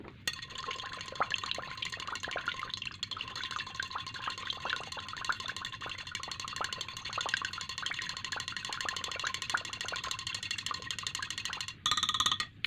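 Fragrance is stirred into melted candle wax, with continuous light clinking and scraping of a utensil against the container, quick irregular taps over a faint background, ending in a brief louder clatter.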